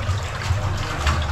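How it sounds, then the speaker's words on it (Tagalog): Water runs steadily from a newly installed tap in one continuous low splashing gush, close and fairly loud, with no voices over it. "Ayan na, tubig na po yan."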